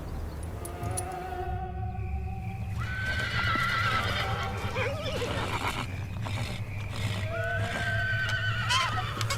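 Horses neighing restlessly in an animated Kazakh folk-tale cartoon, several loud whinnies rising and falling over a low rumbling bed with hooves clattering, no speech.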